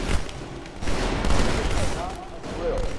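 Dense gunfire from the video game Halo 2 while shooting at Elites, a continuous loud barrage of rapid shots with voices talking underneath.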